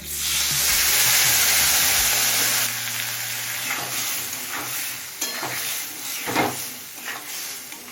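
Cumin powder, Kashmiri chili powder, turmeric, salt and a splash of water fried in a pan, starting with a loud hissing sizzle that settles into quieter frying with scattered stirring clicks and scrapes.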